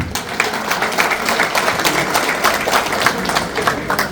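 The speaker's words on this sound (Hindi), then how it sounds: "जोरदार तालियां हो जाए।" Loud applause from members at a chamber of commerce annual general meeting, a dense, energetic round of clapping with distinct individual claps standing out, continuing steadily from start to finish.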